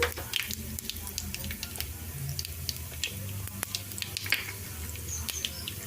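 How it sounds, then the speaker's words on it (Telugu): Tempering seeds, about two spoonfuls, fry in heated oil for a horse gram chutney, giving a steady close sizzle full of tiny pops and crackles, with faint background murmur. "నూనె అయితే వేడెక్కిందండి ఇప్పుడు దీంట్లో తాలింపు గింజలు ఒక రెండు స్పూన్లు అయితే వేసుకుంటున్నాను"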